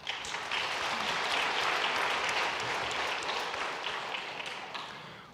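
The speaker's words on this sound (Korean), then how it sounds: "우리 큰 박수로 격려하고 위로하겠습니다" Steady, full congregation applause fills a church during a Sunday service, dense and sustained, slowly fading toward the end with no talk over it.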